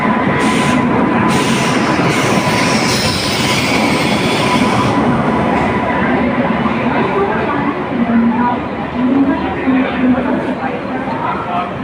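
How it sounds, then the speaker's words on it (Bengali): A train pulls into Dadar railway station in Mumbai with a loud, steady rumble and wheel noise that fill the whole stretch. Crowd voices and talk murmur beneath it on the busy platform. "ওই যে আমাদের ট্রেন এসে গেল।"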